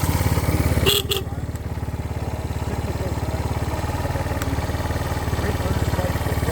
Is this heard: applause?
no